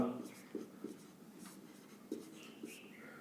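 Chalk or marker writing on a board during a Class 10 maths lesson, giving faint scattered taps and scratchy strokes in a quiet room.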